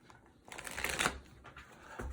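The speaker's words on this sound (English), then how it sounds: "I've already pre-shuffled this deck for you, Aries, but I'm going to give it one more quick shuffle," A tarot card deck gets a quick shuffle: a short burst of crisp riffling and flapping cards that is close and fairly quiet, ending in a brief final riffle with no voice.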